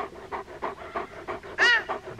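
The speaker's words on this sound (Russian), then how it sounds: "А вон, видишь, собачки пришли, собачки бегают." German Shepherd and other dogs panting in quick rhythmic bursts, about eight breaths in two seconds, close and fairly loud, with a brief louder sniff or whine near the end and no talking.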